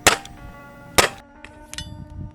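A Hatsan Alpha air rifle fires two sharp, loud cracks with a metallic ring about a second apart, followed by lighter knocks and rattles of pellets hitting a cardboard box, close by.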